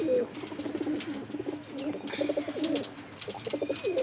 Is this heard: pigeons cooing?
yes